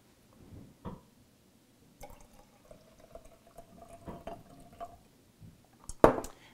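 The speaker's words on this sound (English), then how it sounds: "Now I'm going to add 1/3 cup of water." A third of a cup of water goes into a jar of salad dressing: soft, faint splashes and a rising fill tone, ending in a sharper glassy clink, with no voices.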